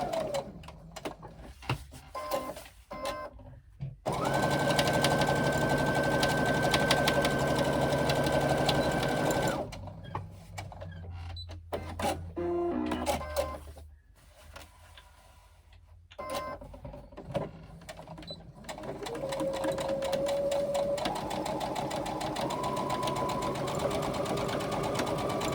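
A sewing machine stitches a fabric panel in several runs, with a rapid mechanical whirring hum that starts and stops with short quiet gaps between, close and clear.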